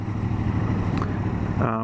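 Triumph Speedmaster motorcycle with a Jekyll and Hyde exhaust set to its closed, near-stock position, giving a steady low engine rumble close by before a voice briefly cuts in at the end.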